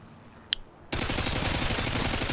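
A single gunshot cracks out in a Scrapyard team deathmatch video game, followed by a sustained burst of rapid automatic gunfire that carries on steadily to the end.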